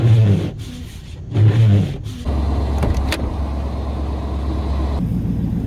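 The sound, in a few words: Chevy 454 big block engine running after cold start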